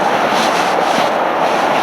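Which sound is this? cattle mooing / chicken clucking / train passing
train passing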